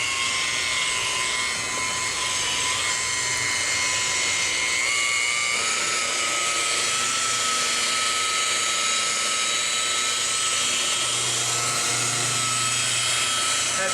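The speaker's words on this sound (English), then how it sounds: "Now what I'm going to do is I'm going to use this buffer at a very low RPM." Rotary buffer running at low RPM across the Jaguar XK RS hood paint, a steady high-pitched machine whine that holds continuously at close range throughout, with no talk.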